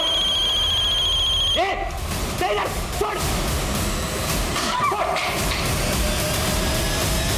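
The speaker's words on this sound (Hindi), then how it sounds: "किसका फोन बजा बे? किसका फोन बजा?" A telephone rings with a high, steady electronic trill, then cuts off; thumps and shuffling noises follow in a noisy room.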